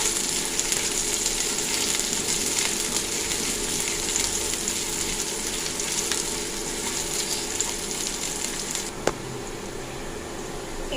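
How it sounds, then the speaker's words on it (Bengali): Chopped onion and garlic fry in a hot pan, giving a steady, even sizzle that runs unbroken throughout, with a brief clink of a utensil near the end. "পেঁয়াজ ও রসুন ভালোভাবে মিক্স করে ভেজে নিব।"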